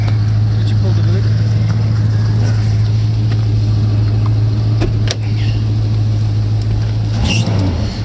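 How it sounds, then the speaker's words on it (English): A 1979 Chevrolet C10 pickup engine idles close by with a loud, constant low drone and a steady tonal hum, with small clicks and knocks scattered through it. "See, we got that little alternator squeal."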